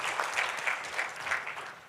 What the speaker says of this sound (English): please give him a round of applause as well